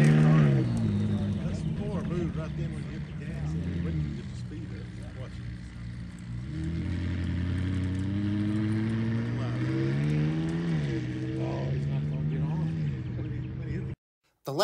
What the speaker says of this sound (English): let's just listen to it as it leaves. It's fairly new. It's a 675 LT